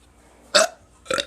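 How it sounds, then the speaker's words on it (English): A teenager lets out two short, close burps about half a second apart, the second slightly longer and rougher, against a quiet room. "This is a terrible burp video."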